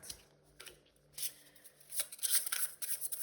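Tarot cards are shuffled and drawn by hand, with soft riffling flutters and slaps in quick bursts that grow busier toward the end, close and fairly quiet with no voice.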